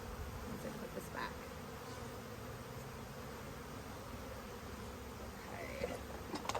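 Honey bees buzz steadily around a hive frame during a beekeeping mite check, a dense close swarm drone holding the whole time with a few louder individual passes near the end and no talking.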